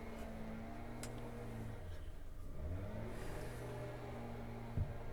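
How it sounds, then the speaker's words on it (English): A nearby motorized blower drones with a steady low engine hum, and its pitch dips and shifts midway as it runs on. "Thank you for coming with your blower into my space."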